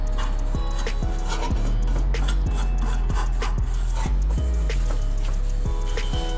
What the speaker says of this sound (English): That's the whole point of that scuff pad, it just kind of really gets it.